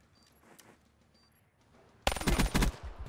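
Loud, dense automatic gunfire erupts partway through a video game gunfight, rapid rattling bursts close up after a quieter stretch of faint background noise.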